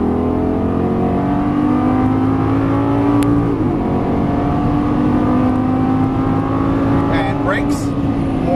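A Lamborghini Gallardo LP550-2 engine pulls hard on a racetrack, its loud rising roar climbing steadily through the revs with a shift midway, while an instructor talks over it.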